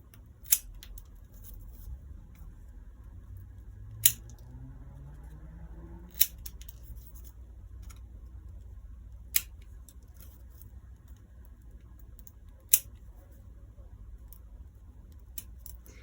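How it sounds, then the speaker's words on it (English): Scissors trim the arms of a woven paper Scandinavian advent star, giving about six sharp, isolated snips spaced a few seconds apart over a quiet background. "go ahead and trim those down to those 4 points"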